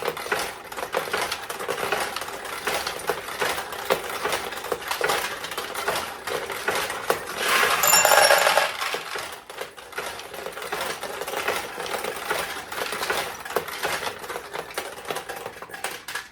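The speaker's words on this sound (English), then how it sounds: "So we'll launch a few more." Steel balls launch and rattle through a fully restored vintage single-shot pachinko machine, a dense close clatter of metallic ticks and chimes with a brief louder whoosh partway through.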